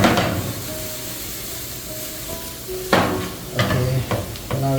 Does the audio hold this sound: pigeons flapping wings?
no